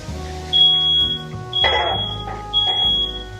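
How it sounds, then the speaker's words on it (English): A kitchen smoke alarm, set off by frying bacon, sounds in several shrill, steady high-pitched beeps, with low background hum and faint clatter between them. "I don't know why our smoke detector has become so sensitive these days"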